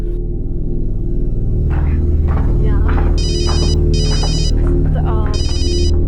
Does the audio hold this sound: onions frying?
no